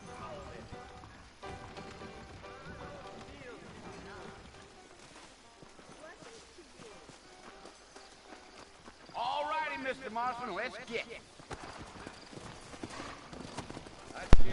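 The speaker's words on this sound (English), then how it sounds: "I got the horses saddled up and ready out front" Horse hooves clip-clop at a steady gait in the Western video game Red Dead Redemption, moderately loud and mixed with game music and ambience, while someone talks over much of it.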